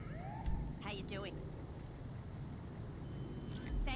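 A wailing ambulance siren in GTA 5 sweeps up and down in short bursts amid a dense game soundscape, fairly close, with a low rumbling background throughout.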